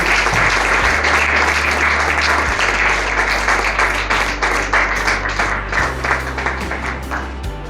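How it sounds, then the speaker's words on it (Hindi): A church congregation claps loudly and continuously, a dense crackle of many hands over low sustained music that thins slightly toward the end. "तो जोर से इनके लिए ताली बजाते हुए प्रभु का धन्यवाद करेंगे"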